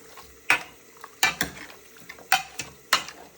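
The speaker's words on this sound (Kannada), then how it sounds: "ಸ್ವಲ್ಪ ಫ್ರೈ ಆಗಲಿ." Chicken sambar masala with turmeric frying in a pan, heard as a soft, faint sizzle under a series of sharp scraping and clinking stirs from a spoon at irregular intervals.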